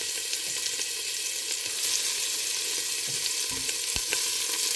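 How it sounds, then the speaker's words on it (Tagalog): Ginger stir-fried in a hot pan gives a constant dense sizzle and crackle, close and steady, with a few faint scrapes and knocks of the utensil near the end and no talk. "Tapos isunod natin yung luya mga lalabs"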